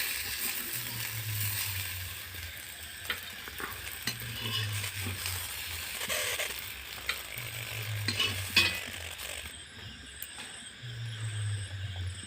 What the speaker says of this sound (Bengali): পটলগুলো আমার লাল লাল করে ভাজা হয়ে গেছে